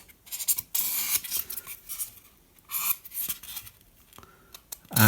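Scissors cut through cardboard packaging for a sculpture in a few close, crisp snips and scrapes with quiet gaps between them.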